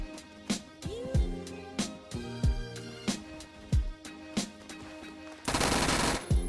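Mag 10 shotgun fire in the video game Phantom Forces: six or seven sharp, booming shots spaced roughly every half second, each followed by a falling mechanical pump sound, ending in a burst of harsh noise.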